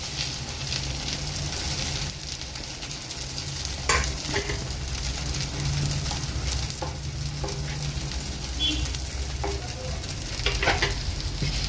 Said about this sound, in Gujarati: ધીમા ગેસે આપણે એને વાર માટે ચડવા દઈશું